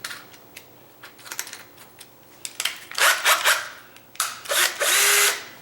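Power drill driving 2.5 inch screws while adjusting a door gap, with short whirring bursts that build into several longer, louder drilling runs close by.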